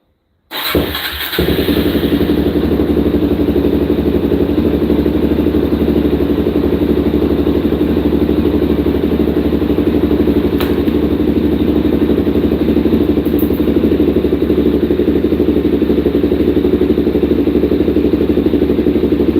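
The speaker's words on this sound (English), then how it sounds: "we're going to start her up. Do a start, and we're going to run it for a little bit" A Suzuki DRZ motorcycle's engine cranks and catches after a short silence, then settles into a steady, loud single-cylinder idle that runs close by for the rest of the clip, with a little clatter.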